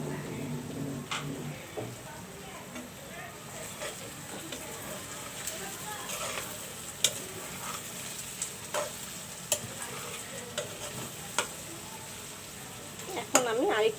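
Beef bhuna for Eid sacrifice cooks in a spoonful of ghee with a soft, continuous sizzle, broken by sharp spoon clicks and scrapes against the pot, fairly quiet and close.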